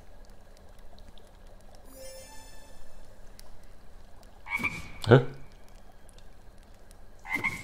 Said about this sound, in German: use the spell and you let out a swarm of frogs.